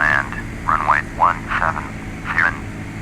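A Cessna's engine in Flight Simulator 2002 hums as a steady low drone throughout, under a voice making a radio call with several short bursts of speech.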